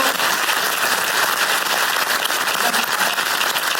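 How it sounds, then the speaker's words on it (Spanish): A live audience breaks into loud, dense applause to welcome a musician onto the stage, a continuous roar of clapping with no voices over it. "Fuerte el aplauso"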